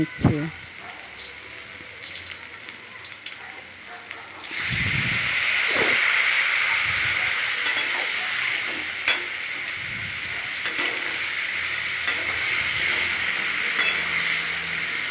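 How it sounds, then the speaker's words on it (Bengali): Papaya, fried potato and chickpeas being stir-fried with spices for a vegetarian papaya dish: a loud, steady hiss of frying begins partway through, with scraping and stirring knocks against the pan, close and continuous. "আলুর টুকরোগুলো দিয়ে আবার পেঁপের সাথে ছোলার সঙ্গে ভালো করে নাড়াচাড়া করে নিচ্ছি মশলার সঙ্গে কষিয়ে"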